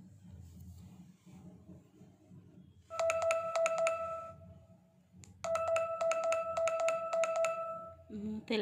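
A phone alarm rings in two long bursts of rapid repeating electronic tones, loud and close, separated by a quieter stretch of low room noise.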